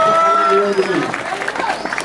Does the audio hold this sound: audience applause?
yes